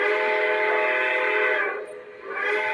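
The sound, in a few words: train whistle all aboard signal, replicated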